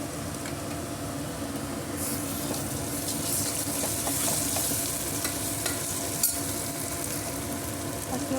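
Curry paste for a capsicum curry is stirred in a hot pan, a busy sizzle with steady scraping and clattering strokes of the spoon throughout, close and moderately loud.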